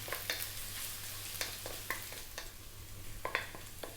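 Ginger sautéing in oil in a pan, a soft, steady sizzle close by with a low hum behind it and several sharp scrapes and clinks from stirring, no voices.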